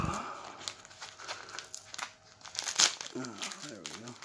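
A mail envelope torn open by hand, crinkling and ripping paper in short bursts close by, with a person talking over part of it.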